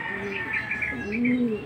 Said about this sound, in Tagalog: may nagdaanan ng mga ibon dito